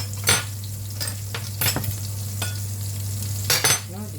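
Scallops frying in butter give a steady close sizzle under sharp clicks of a utensil against the pan, four or five distinct scrapes and taps spread through the sizzle, with a low steady hum beneath.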